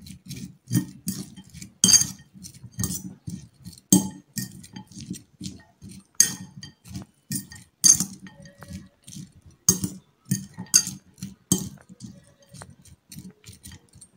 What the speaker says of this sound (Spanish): Todo lo vamos a mezclar.